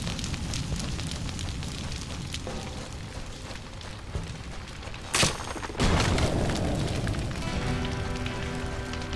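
A fire crackles and hisses in the video game Shelter, a steady dense crackle like rain on a surface, broken by a brief loud burst midway and then continuing slightly louder.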